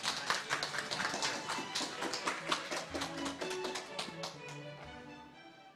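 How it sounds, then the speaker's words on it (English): Audience applause at an international symposium on AI research and law, a dense, steady clapping that continues for several seconds before gradually thinning out. "So now with a round of applause, let's welcome Professor Dix."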